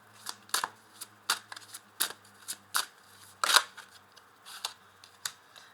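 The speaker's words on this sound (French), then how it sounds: "je vais rajouter une carte dessus" Tarot cards handled and laid down one at a time during a reading, a series of crisp, close card snaps and shuffling slaps at an irregular rhythm with no talk.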